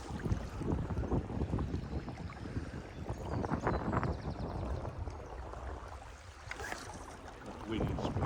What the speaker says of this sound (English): That wind's picked up again upstream, so it's always going to hurt us.